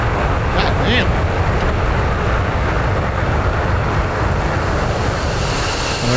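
A fighter jet engine roaring with afterburner in the DCS World flight game, a loud, steady, broadband rumble filling the whole clip with little variation.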